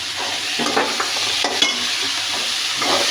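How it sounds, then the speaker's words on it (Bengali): Green tomato fry with salt and turmeric sizzles in a pan as it is stirred, with repeated scraping strokes of a spoon over a steady close crackle and no voices. "নাড়াচাড়া করে দিব"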